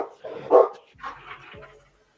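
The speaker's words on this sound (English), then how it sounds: "I just heard your dog just start barking" A pitbull barks a few times nearby indoors, short sharp woofs spaced unevenly, with quiet gaps between.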